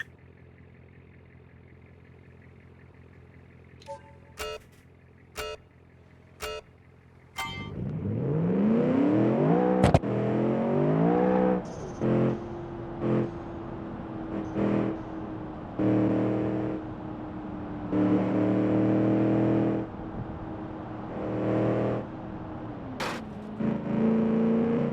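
A sports car engine in the video game Automation revs hard and climbs through gears, loud and close, with sharp shifts and sustained high-pitched racing whine after a few short clicks.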